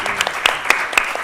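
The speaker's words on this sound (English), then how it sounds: "Can we get a round of applause for that?" A film festival audience applauds a screened film in a brief, full burst of clapping.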